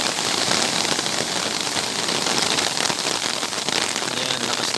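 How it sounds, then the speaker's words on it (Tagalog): Heavy rain pours down steadily over the sea, a dense continuous hiss of drops pattering on surfaces, loud and unbroken with no voices. "Yes, lakas ng ulan."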